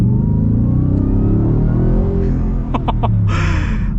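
A 2023 Ford Raptor R pickup truck engine drones loudly and close, its low rumble rising as it revs, with a few brief clicks near the end.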